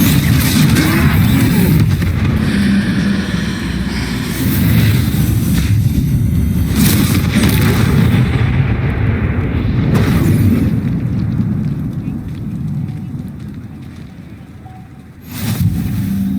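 Confringo fire spell blasts in the video game Hogwarts Legacy during a troll fight, a dense continuous roar of booming explosions and rumble, loud throughout, fading near the end before a final burst.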